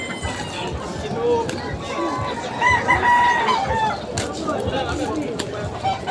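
Bantam chickens cluck and crow continuously, with a rooster's crow rising mid-clip over dense flock chatter, while people talk nearby throughout.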